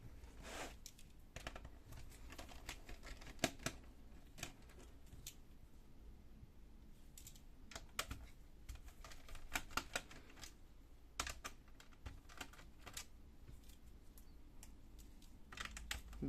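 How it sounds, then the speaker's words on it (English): Screws being undone on the back panel of a Lenovo G50-30 laptop, with a steady run of small close clicks and ticks from the screwdriver and panel, quiet and irregular. "Now we have to unscrew all of the screws of this panel"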